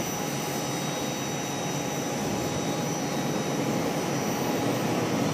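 Boeing 737 MAX 8 jet airliner from JFK passing at Charlotte airport, a loud continuous broadband engine roar holding steady throughout.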